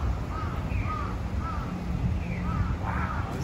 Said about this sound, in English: the birds just caw cawing the fuck out of it